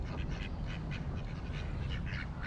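Ducks quacking in a park, a series of short nasal calls repeating over a steady, loud low background rumble, with no talk.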